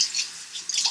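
Water splashing and dripping up close as a face is wetted before shaving, a brief soft trickle with small drops.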